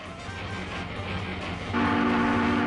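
A real train passes steadily and fairly loud, with a sustained horn blast entering in the latter part over continuous rolling rail noise.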